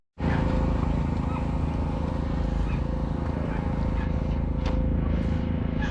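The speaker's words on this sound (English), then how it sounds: "here's a Perkins powered diesel Fergie" A Perkins P3 diesel engine in a Ferguson tractor runs steadily at an agricultural show, a loud, continuous low rumble that starts abruptly and holds without a break.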